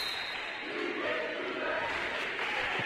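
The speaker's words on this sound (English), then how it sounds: "Crowd getting into it" Crowd noise at a high school volleyball match, Southport at Franklin Central, a dense steady roar of many voices with chant-like surges, continuous and fairly loud throughout.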